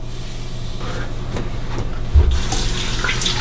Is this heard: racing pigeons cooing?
no